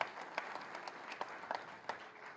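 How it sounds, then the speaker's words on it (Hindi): Faint, distant applause from an audience at a tourism ministry event, a thin patter of scattered claps with a few louder individual hits, continuous for a couple of seconds. "जरा जोरदार तालियां आपके लिए"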